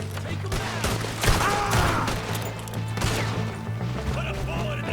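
Gunfire in a Red Dead Redemption 2 shootout, scattered shots and crashes over a dense background while voices shout.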